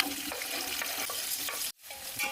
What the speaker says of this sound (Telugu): 1 కప్ ఆయిల్, పుదీనా వేసుకోవాలి, కట్ చేసుకున్న 4 ఆనియన్స్,